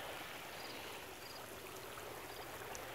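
Water from a garden swimming pond's waterfall splashes and rushes steadily, a continuous broadband stream sound at moderate level, close by and uninterrupted, with no voices.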